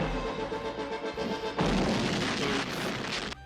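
Loud, dense rumbling blasts roll on continuously, with a heavier burst hitting about halfway through, like explosions in a chaotic action scene from a Swamp Thing movie.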